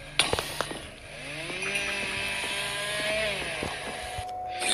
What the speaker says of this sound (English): That's the chainsaw thing.